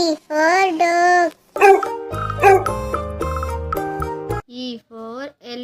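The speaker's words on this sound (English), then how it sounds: "D for dog." Cartoon dog barks and yips on a children's phonics track, a few loud barks up front followed by chiming musical notes and more short yips, with no talking.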